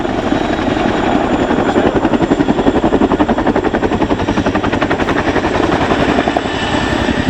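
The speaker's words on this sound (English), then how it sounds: "shortly they'll full power to climb the aircraft while applying left pedal, taking the Chinook skywards" A Chinook helicopter climbs at full power in a rotating corkscrew to 800 feet at the Royal International Air Tattoo 2022 airshow. Loud, close, rapid rotor thudding pulses steadily over a heavy engine roar throughout, with no talk.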